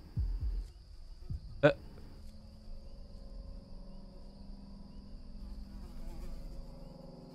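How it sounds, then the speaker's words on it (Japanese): Flies buzz faintly in a horror video game set in an abandoned house, a thin, steady drone behind sparse ambient noise and a sharp click, with someone speaking quietly over it. "ハエの音を頼りに行くか。"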